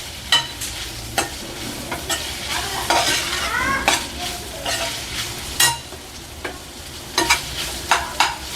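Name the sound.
ginger garlic paste frying and being stirred in a pan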